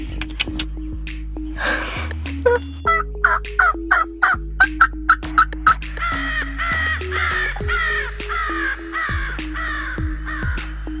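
A wild turkey gobbler gobbles loudly and nearby during a spring hunt in Alabama, with rapid rattling bursts repeated several times over a steady low hum.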